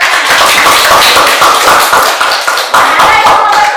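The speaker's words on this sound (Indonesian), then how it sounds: "Iya, tepuk tangan buat temannya." Students in an economics classroom clap together for a classmate, a loud, close burst of many hands clapping in quick, uneven rhythm that continues without pause.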